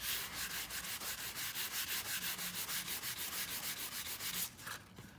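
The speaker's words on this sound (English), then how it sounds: "So we need to sand that a little bit more." Sandpaper rasps back and forth by hand on a Riley Pathfinder's leather upholstery in a quick, even rhythm of scratchy strokes, close up, then stops near the end.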